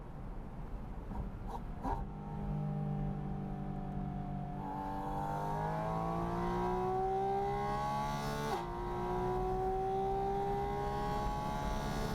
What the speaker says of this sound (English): But you hear it right away when you give some throttle.